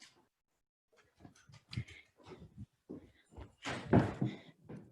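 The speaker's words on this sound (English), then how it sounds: "I've got the dog barking in my office." An Australian Terrier barks in an office, sharp close barks in short irregular bursts with brief quiet gaps. One louder cluster comes near the end, with soft thumps mixed in.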